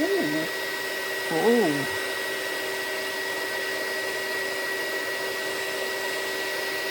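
An embossing heat gun blows right beside the microphone, a loud steady whooshing roar running through the whole stretch, with brief spoken words over it near the start.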